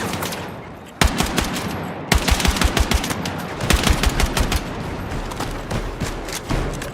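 Rapid machine gun fire in a modern-era video game comes in several loud bursts of fast, sharp shots separated by brief pauses, with no speech over it.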